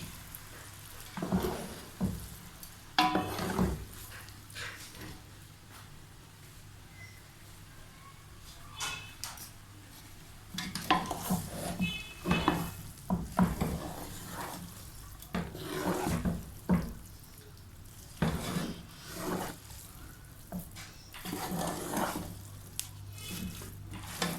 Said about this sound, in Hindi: तो ये सॉस हम डाल देंगे अपने चाउमीन पर अच्छे से, और अच्छे से चाउमीन को करेंगे मिक्स